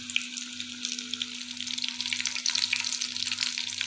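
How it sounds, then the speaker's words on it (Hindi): Paneer frying in a pan until crisp, a bright, crackling sizzle that holds steady and grows a little livelier, with a low hum underneath. "इसको हम तब तक फ्राई करेंगे जब तक ये क्रिस्प ना हो जाए।"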